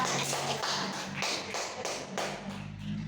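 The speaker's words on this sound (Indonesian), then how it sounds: "Semua ya, tepuk tangan dulu untuk yang sudah" A small counselling group claps together in a classroom, a short run of soft, slightly uneven claps that come in rhythmic bursts.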